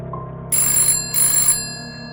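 An old telephone bell rings in two loud, close bursts about half a second each, separated by a brief gap, over a low steady hum, setting a horror-story mood.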